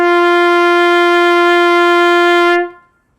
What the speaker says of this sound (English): So that tone quality is a clear and resonant sound